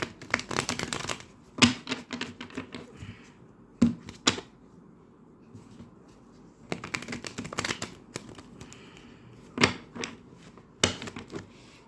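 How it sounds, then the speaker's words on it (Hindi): Tarot cards are shuffled and drawn by hand in bursts of crisp riffling and flicking, separated by quiet pauses, close and fairly soft. "यहाँ से कार्ड्स निकालते हैं।"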